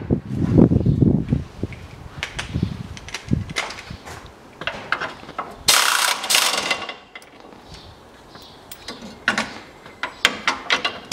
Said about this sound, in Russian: И откручиваем вот эти два болта.